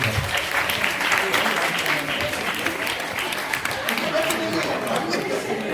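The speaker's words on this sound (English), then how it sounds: "let me just give you a round of applause for how you just addressed your sister" Audience applause at a film premiere, a dense, steady patter of many hands close by, mixed with crowd chatter throughout.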